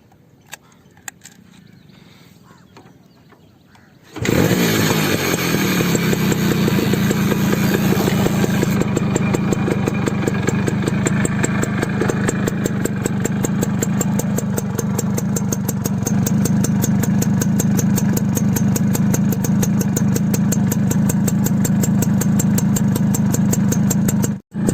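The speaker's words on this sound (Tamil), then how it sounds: "இப்போ இந்த வண்டியோட பீட்டை கேட்டலாம் வாங்க." Restored Suzuki Max100 motorcycle engine starts after a few seconds of quiet, then idles steadily and loudly up close with an even, throbbing beat that holds to the end.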